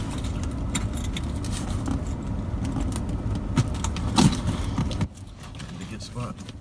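A key dragged through packing tape on a cardboard box, giving scratchy, tearing scrapes and small metallic jingles over a steady low vehicle rumble that drops away near the end.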